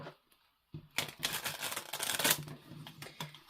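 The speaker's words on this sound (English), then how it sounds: "We'll do one more shuffle." Tarot cards are shuffled up close in quick, crisp riffling bursts after a short quiet start, soft overall with no talk.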